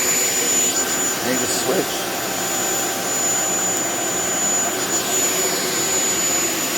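A Shark Vertex corded ultralight stick vacuum cleaner with DuoClean PowerFins runs with a steady, loud whooshing drone and a high whine, continuous and close, while a person speaks briefly over it.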